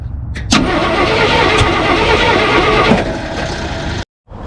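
A 1968 Ford F100 junkyard truck's engine cranks loudly and catches, running in a steady rough roar for about three seconds before dropping off and cutting out briefly.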